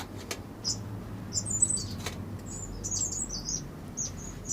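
Gouldian finches in a finch and waxbill aviary, a scatter of thin high chirps and short twittering notes, fairly faint over low background hum, with a couple of soft sharp ticks.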